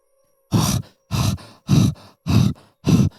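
Five heavy, rasping breaths in a steady rhythm, each a loud gasping burst with short pauses between, close and without any talk.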